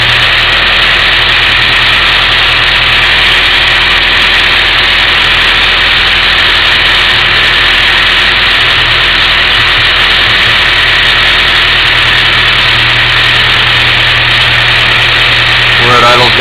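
A car engine idles steadily with a vacuum line plugged into a vacuum port, giving a loud, continuous drone with a constant low hum throughout.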